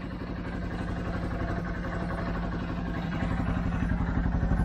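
A 2013 CFMOTO Z6 motorcycle engine idles steadily after a fuel pump change, a close, even mechanical putter with light clatter running throughout, slightly louder toward the end.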